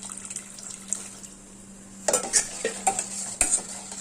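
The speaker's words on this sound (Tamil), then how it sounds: "இதில் நம்ம 1 டம்ளர் அளவுக்கு பால் ஊற்றிக்கலாம். நல்லா கலக்கிக்கலாம்." Milk being stirred in a vessel with a utensil, quiet scraping and clinks, with a steady low hum throughout and a cluster of sharper utensil knocks toward the end.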